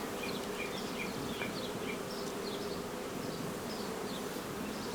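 Honeybees buzz around an open hive, a dense, continuous hum with many overlapping wingbeats close by, steady throughout without speech.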